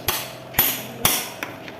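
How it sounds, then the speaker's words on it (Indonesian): Four sharp metallic hammer blows on a CVT holding wrench while loosening the clutch on a Honda Vario 125 scooter, spaced about half a second apart, close and loud with brief ringing decay. "kita menggunakan kunci CVT ini, kemudian dipukul pakai palu"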